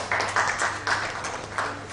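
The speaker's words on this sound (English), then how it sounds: "Can I request the panelists to please join us on stage with a round of applause." Audience applause welcomes panelists onto the stage at an education summit on vocational education, a steady moderate clapping from a seated hall with bursts swelling and easing over two seconds.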